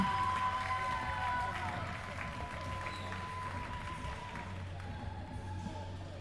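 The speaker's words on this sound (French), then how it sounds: "Applaudissements pour Lucie Mortimer." Applause and crowd noise at an amateur women's scooter competition final, a spread-out wash of clapping heard at a distance with a low steady hum and a voice over the top.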